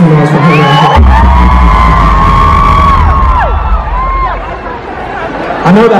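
Loud concert crowd at a show in Los Angeles cheers, whoops and screams continuously, with shrill voices rising over a dense roar that swells and dips slightly before surging again.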